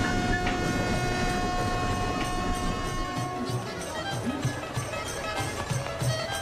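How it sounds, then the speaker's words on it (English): An Indian railway train rolls by up close, a loud continuous rumble with a high steady whine, shifting midway into rhythmic clacking of wheels over rail joints. "It's the biggest and busiest railway system in the world"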